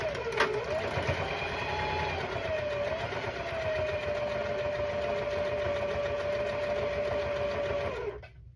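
A sewing machine runs steadily while back-stitching a quilt block, a continuous close whir with a high motor whine, stopping abruptly at the end; a person talks briefly over it.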